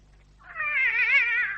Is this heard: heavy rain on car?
no